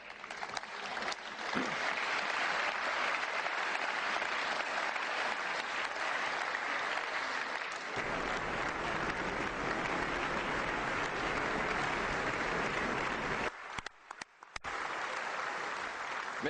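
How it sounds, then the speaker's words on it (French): A large audience in the European Parliament applauds in sustained, dense clapping that stays steady and fairly loud throughout, with brief dips near the end. "L'assistance applaudit."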